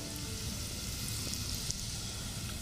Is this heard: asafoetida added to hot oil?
yes